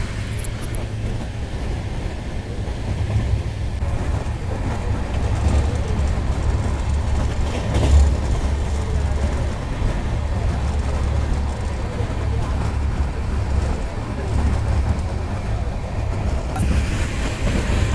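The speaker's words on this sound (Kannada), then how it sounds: "ಇದು ಚಾಲುಕ್ಯ ಎಕ್ಸ್ಪ್ರೆಸ್ ನೋಡಿ" The Chalukya Express, running from Puducherry to Dadar Central in Mumbai, rushes past at speed with a loud, steady roar and rumble, wheel clatter and a brief sharper clank midway, all under ongoing talk.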